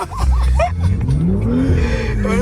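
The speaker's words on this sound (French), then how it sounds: "On est dans la BMW. Petit demi-tour." BMW supercar drifting sideways on a race circuit, engine droning and revving continuously up close from inside the cabin with a rising engine pitch and faint tyre noise, voices talking over it.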